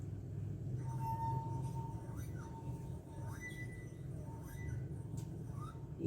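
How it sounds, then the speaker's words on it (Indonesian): A glass tumbler sings with a steady resonant ringing tone as fingers are worked inside it, the pitch sliding and shifting in short glides over a low background hum. "Saya akan mempraktekkan resonansi bunyi pada gelas kaca"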